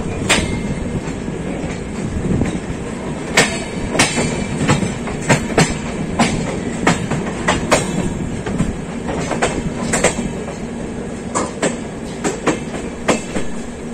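A Ranchi-New Delhi Rajdhani Express of Indian Railways, running via Bokaro toward New Delhi, rolls steadily on its rails: a continuous loud rumble broken by sharp, rhythmic wheel clacks at the rail joints, with no voices.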